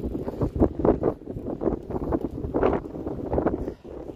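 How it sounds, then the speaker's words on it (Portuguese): Steady wind gusting along a mountain road, rushing and buffeting in waves close to the microphone, with no talk. "E agora deu uma diminuidinha no vento"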